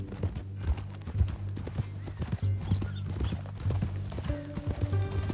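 Rhythmic clip-clop of horse hooves in the video game Red Dead Redemption 2 plods steadily, close and distinct, over a low background with a faint tonal melody entering toward the end.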